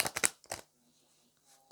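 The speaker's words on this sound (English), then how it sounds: "So I'm shuffling the cards." A Druid Cross tarot deck is shuffled by hand in a few quick, close papery riffles, followed by a short quiet pause and one last card rustle.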